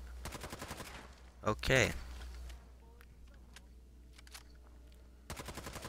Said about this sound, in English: I shot off those other guys' legs.